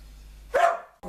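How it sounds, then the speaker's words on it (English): Dogs barking outdoors, heard as one short, loud, sharp bark burst over a steady low background hum, with no voices. "Just other bad doggies making noise for no reason."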